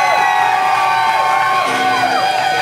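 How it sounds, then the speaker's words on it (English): Live music-hall audience in Standish, Maine cheering and whooping steadily throughout, a dense continuous roar of voices with shouts rising above it. "Let that crowd cheer for you."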